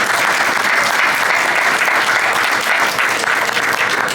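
Sustained audience applause fills a cultural plan launch event at the Bogotá book fair, a dense, steady wash of clapping from many hands, loud and unbroken throughout.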